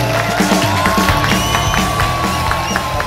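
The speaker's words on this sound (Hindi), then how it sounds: "आपकी भरपूर तालियों में तशरीफ लाती हैं फजर अली।" A studio audience at a comedy show cheers and claps loudly for a performer's entrance, with whoops and shouts over dense, continuous applause.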